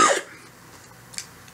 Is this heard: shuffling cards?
no